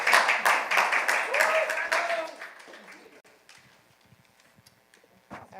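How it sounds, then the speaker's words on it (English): Clapping from a youth gathering audience welcoming a presenter to the front, a dense burst of hands for about two seconds that thins out and fades, with a voice briefly heard over it. "Let's clap her up as she comes."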